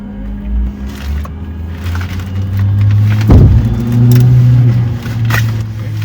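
Engines of a small passenger plane start up before a flight over the Pacific Ocean, a low droning hum that swells after a couple of seconds and holds steady, with a sharp mechanical clunk midway, loud and close.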